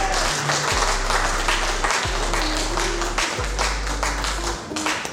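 A crowd claps in sustained, dense applause that holds steady throughout, with a low hum underneath.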